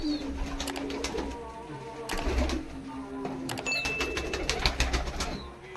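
Giribaz and Madrasi pigeons cooing in a loft, soft repeated coos with faint chirps and background clatter, fairly quiet and close.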